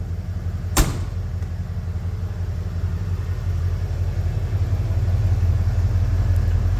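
A Ford F150 truck engine idles with a steady low rumbling hum that grows slightly louder, broken near the start by one sharp click.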